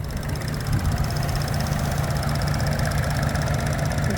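A small engine in a 2013 Buick Encore idles with the hood open, a steady close mechanical hum with a faint ticking knock running evenly throughout and no voices.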